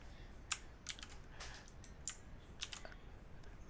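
Fingers typing on a computer keyboard: soft, quiet key clicks in an irregular rhythm over a faint steady hiss, with no voices.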